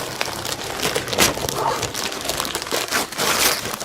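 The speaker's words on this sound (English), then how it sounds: "which means we're unwrapping" Gift wrapping crinkles and tears as a comic book, BRZRKR #1 from Boom Studios, is unwrapped, a close, fairly loud run of paper rustles and rips with no speech.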